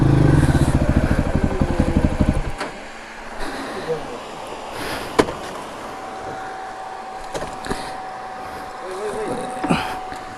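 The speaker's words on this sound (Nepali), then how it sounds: "बाइक यहीँ राखिदिउँ अब" A dirt bike engine on a hilly trail runs close and loud for a couple of seconds, then cuts off, leaving quiet outdoor air with a few faint knocks.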